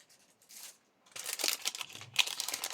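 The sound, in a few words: small paper envelopes being handled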